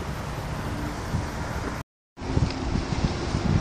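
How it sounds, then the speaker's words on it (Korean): Wind blows hard across the mic at a Han River eel-fishing spot, making a continuous rough roar that cuts out briefly partway through. "오늘은 바람도 많이 불고"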